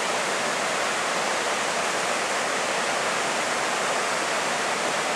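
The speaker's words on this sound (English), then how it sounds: "there's the Selway River, and there's Selway Falls over there" Selway Falls on the Selway River in Idaho thunders in a dense, steady roar of rushing whitewater, loud and unbroken throughout with no voices.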